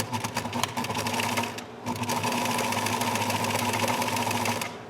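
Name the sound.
sewing machine stitching fabric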